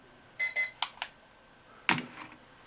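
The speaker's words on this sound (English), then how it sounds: "I believe I just had my alarm go off" A personal alarm goes off faintly: a short burst of bright electronic tones, then a few sharp clicks and a louder chirp, with no talking over it.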